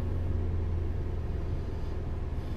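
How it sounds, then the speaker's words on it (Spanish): A car engine holds a steady raised rev around 2500 rpm, a continuous loud low rumble close by with no change in pitch and no talking. "Voy a acelerar el carro a 2500 revoluciones en este momento"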